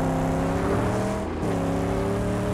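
Car in the Mad Max video game driving into and ramming a gate, a loud steady engine roar with a short dip as impact lands, then the motor keeps droning, no talk.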